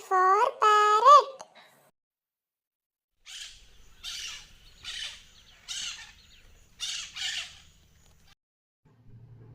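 A parrot lets out a quick burst of loud, harsh squawks at the start, followed by a series of softer, raspy calls spaced about a second apart, heard alone and close.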